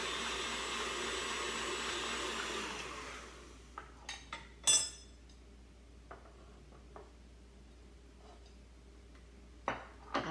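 A bowl of chocolate frosting, a mixer whirring briefly before stopping, then scattered scrapes and clinks against the bowl sides, close and sparse, with no talking.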